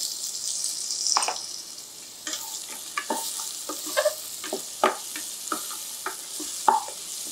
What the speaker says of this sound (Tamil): இதில் கட் பண்ணி வச்சுருக்கிற சின்ன வெங்காயம் சேர்த்துக்கலாம்.